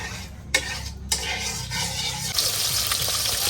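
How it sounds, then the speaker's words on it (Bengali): Fish fried in mustard oil in a wok: a steady, close sizzle and spatter runs throughout, with a few sharp clinks of a utensil against the pan near the start and a louder burst toward the end. "যে মাছগুলো ভাজা হচ্ছে"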